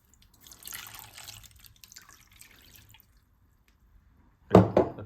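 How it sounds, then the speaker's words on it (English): A soft trickle of water poured into a pot for chicken curry runs for a few seconds, falls quiet, then ends with a louder splash and clunk close by. "Now I will add some water"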